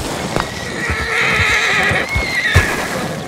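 A horse in a video game whinnies in a long, loud neigh while hooves clop in an uneven rhythm beneath it, with no talk.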